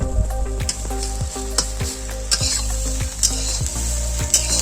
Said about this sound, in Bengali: সেদ্ধ করা কিছু আলু আমি এরকম খুন্তি দিয়ে ভেঙে ভেঙে দিচ্ছি